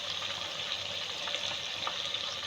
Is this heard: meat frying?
yes